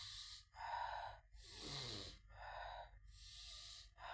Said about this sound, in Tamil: அப்படி மூச்சை இழுத்து இழுத்து ப்ரீத்திங் எக்ஸசைஸ் விடுங்க